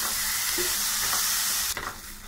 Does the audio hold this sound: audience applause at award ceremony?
no